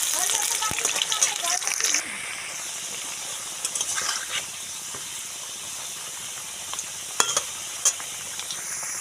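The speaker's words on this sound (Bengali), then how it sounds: "প্রথমে আমি আলুটাকে ভাজবো" Cut potatoes frying in hot oil in a kadai give a steady broadband sizzle with occasional stirring scrapes and spatters, close and continuous throughout.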